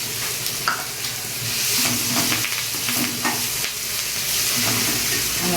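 Curry leaves tempering in hot oil for a tamarind curry, a busy crackling sizzle that runs throughout, broken by spoon-stirring scrapes and small pops, with no talk.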